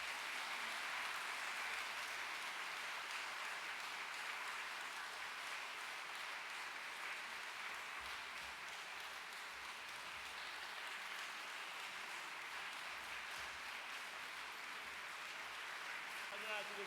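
A congregation applauds during a scholarship presentation at a Korean church district service, in long, sustained, even clapping from many people that fills the hall throughout, with faint voices beneath.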